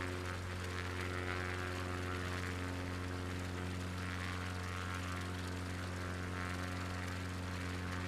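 An XCub propeller plane engine drones steadily in flight in a simulated alpine bush trip, a constant quiet hum with strong low tonal layers and no pauses.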